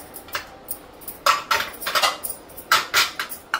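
Large metal idli steamer pots being stacked and handled in a home kitchen, giving a series of close, bright clanks and clinks in irregular bursts, with no talking.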